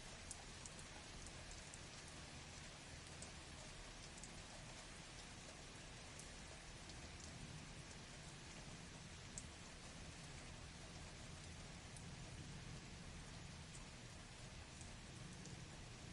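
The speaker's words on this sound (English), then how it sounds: "It's just rain sound effect." A rain sound effect plays as a steady, faint hiss of falling drops on a surface, continuous and even with no talking.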